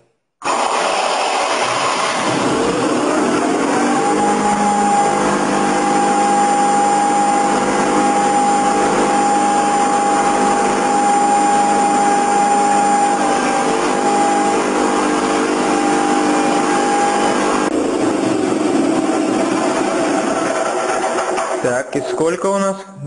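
A small gasoline engine, choked after its fuel had run dry, starts and then runs at a loud, steady drone for about twenty seconds before winding down near the end.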